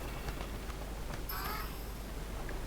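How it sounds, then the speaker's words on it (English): Summoned crows cawing in the Age of Wonders 3 video game: a single short caw stands out briefly over a constant dense background hiss, faint and brief. "so we've summoned the crows, and we can move them this turn as well"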